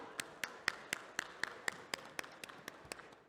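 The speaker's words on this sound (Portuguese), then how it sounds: "Uma salva de palmas ao Luciano, por favor" Applause for a panel moderator at a conference stage, heard as a sparse, evenly spaced series of about a dozen crisp single claps, fairly close and quiet against a faint room hum.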